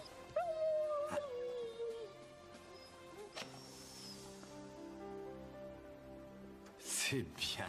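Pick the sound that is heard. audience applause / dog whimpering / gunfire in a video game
dog whimpering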